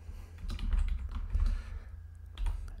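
Computer keyboard keys being typed while entering a formula in Google Sheets, a quick run of soft clicks in short bursts with a brief pause, close and moderately quiet.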